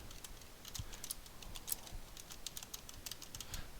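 Typing on a computer keyboard, a quick irregular run of close, light key clicks, fairly quiet and alone.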